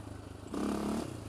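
A Polaris Outlaw 525 quad's engine surges in a loud, brief rev over a steadier background engine drone as the throttle is flipped off a lip while riding bumpy terrain.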